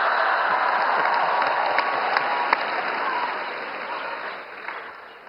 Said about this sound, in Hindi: जैसे जैसे समय आता जाए ताली बजाते जाइए।